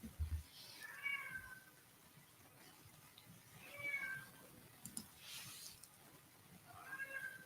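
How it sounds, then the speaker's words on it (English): A cat meows repeatedly from a short distance indoors, with three separate drawn-out meows spaced a few seconds apart over a quiet room hum. "You guys hear that fucking cat?"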